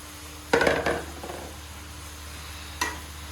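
Potatoes tipped into a hot pan for bhaji, a burst of sizzling and clattering that quickly settles into a low fry, followed by one short clink of a utensil.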